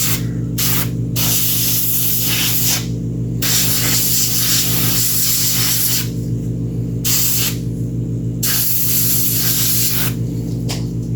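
Mist of base-tone paint sprayed from an airbrush onto a 1/6-scale Predator sculpture: a loud, close, continuous hiss over a steady hum, with the spray cutting out briefly several times.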